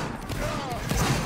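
A musket volley rumbles in a Roblox Napoleonic Wars battle, a dense burst of overlapping low booms heard up close amid game noise.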